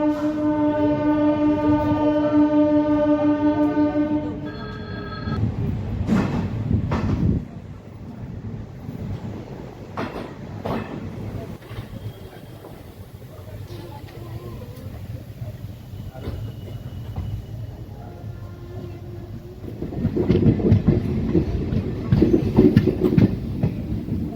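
A train horn blares with a steady tone, then the rumble and rhythmic clatter of the Pandharpur Express passenger train rolling along the tracks, fairly close and loud.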